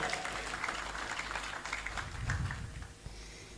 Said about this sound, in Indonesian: Tepuk tangan untuk Indonesia Raya.